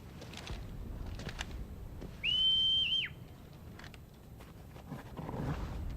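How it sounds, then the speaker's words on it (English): A single sharp whistle rises and holds for under a second in Final Fantasy XVI, standing clearly above a low murmur of game ambience with faint clip-clop and background bustle. "Surprised nobody else heard that whistle."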